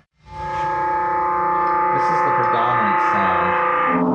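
A sampled metal oil can played on a keyboard as a film sound effect for Panic Room, a sustained metallic ringing tone with shifting overtones that swells in and holds steady for several seconds.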